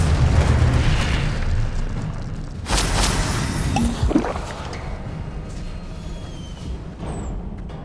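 Spell blasts and magical bursts in the video game Hogwarts Legacy, a dense, loud rumbling wash with booming impacts around the middle, continuous and without talk.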